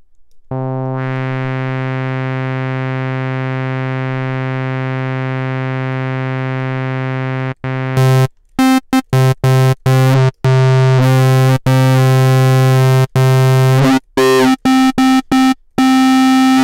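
A Melbourne bounce style synth lead built from clipped bandpass saw waves with feedback and heavy reverb holds one loud, buzzy sustained tone, then breaks into rapid choppy stabs and gated bursts with abrupt silences between them.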